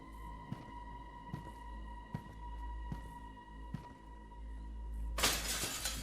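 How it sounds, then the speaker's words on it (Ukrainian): Glass shatters loudly near the end of a tense, humming stretch in the horror game Stories To Tell: Greyville Stay, a sudden bright crash after several soft, evenly spaced ticks under a low drone. "Мені потрібно щось, аби зламати скло у моїй кімнаті"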